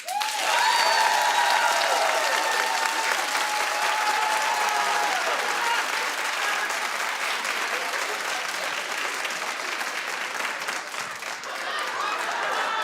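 A live audience claps in a big, continuous wave of applause, loud at first and holding steady for several seconds, with faint voices mixed into the crowd noise.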